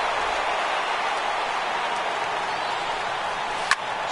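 Broadband crowd roar from a baseball video game's home stadium: a steady, dense wash of cheering and applause throughout, with one brief sharp crack near the end.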